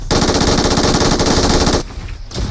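Rapid bursts of machine-gun fire in PUBG Mobile rattle loudly in quick succession, then break off briefly before resuming.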